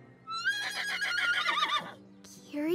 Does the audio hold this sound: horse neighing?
yes